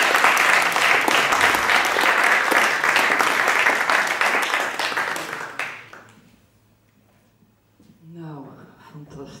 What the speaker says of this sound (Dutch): een hartelijk applaus voor mevrouw Ter Haar